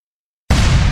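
After half a second of silence, a loud, abrupt video game grenade explosion bursts in and keeps rumbling heavily to the end.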